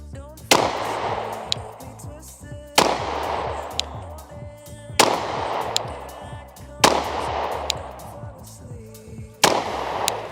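Glock 20SF 10mm pistol firing at an outdoor range: five loud, sharp shots spaced roughly two seconds apart, each with a booming report and a short decaying tail, heard close.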